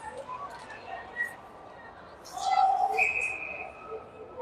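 Referee's whistle at a youth 17U ice hockey game between Hawks and Lafayette: a couple of clear whistle tones, the longer one more prominent, over arena noise while a commentator talks.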